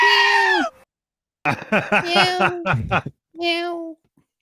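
A goat bleating sound effect plays twice: a loud wavering bleat at the start and another near the end, with people talking and laughing in between.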